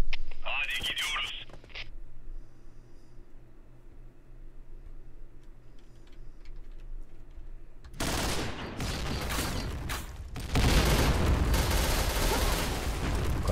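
Heavy explosive blasts burst out loud in a first-person shooter esports match, two grenade detonations crashing in late after a long stretch of quiet ambience and a brief chirpy electronic blip early on.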